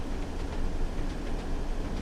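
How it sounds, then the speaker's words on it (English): A Class 101 diesel multiple unit rolls along the tracks in a railway simulation, giving a steady, fairly quiet rumble with faint repeating wheel clicks over rail joints, no talking. "The other thing about this train as well, that clickety clack on the tracks."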